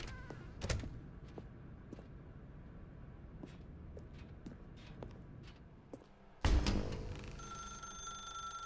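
Telephone ringing in The Stanley Parable video game, a faint repeated ring under quiet room ambience with scattered clicks, then a loud thunk and a brighter burst of electronic tones near the end.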